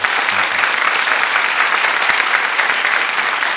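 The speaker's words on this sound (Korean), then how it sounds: "인사하실 때 큰 박수로 환영해 주시길 바랍니다" A church congregation claps loudly and steadily to welcome new members at a Sunday service, the dense, sustained applause filling the room from start to finish.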